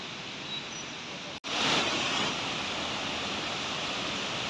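Mountain river rushing along a rocky stony bed beside a high trail, a steady broadband wash of flowing water heard close and continuous, with a brief dropout early on and no speech.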